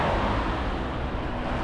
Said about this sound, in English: there's a lot of cars coming. It's a 2-lane